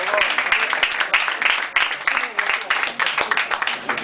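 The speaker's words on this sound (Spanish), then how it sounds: "Un aplauso para Nacho Castro." Audience applause at an open mic night in Valladolid, a burst of clapping from a small crowd, close and lively, with voices talking and calling out over it.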